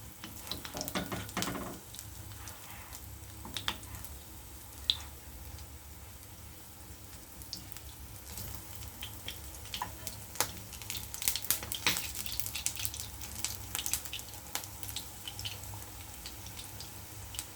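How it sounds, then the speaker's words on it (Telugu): Potato cutlets frying in a pan, a soft, low sizzle with scattered crackles and small pops, quiet and steady across the whole stretch with no talking. "ఇప్పుడు ఇలా రెండో వైపు కూడా ఫ్రై అయిన తర్వాత"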